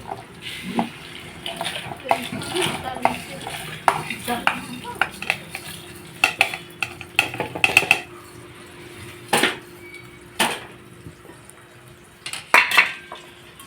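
Ingredients for a bitter gourd fry being stirred in a pan with a metal spoon, heard as a run of sharp clinks and scrapes against the pot over a quiet background, with no talking.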